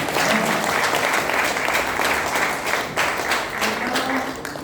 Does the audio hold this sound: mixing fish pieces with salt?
no